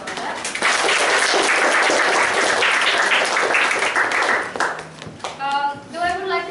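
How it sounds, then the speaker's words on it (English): An audience breaks into loud, close applause that swells and holds for several seconds, then thins out as a speaker's voice returns over the last scattered claps. "she really deserves a round of applause for all that"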